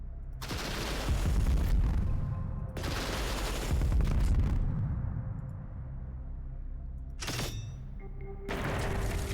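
Loud bursts of automatic gunfire from the Heart of the Machine video game, coming in several separate volleys with short gaps and a fading tail between them, with no talking.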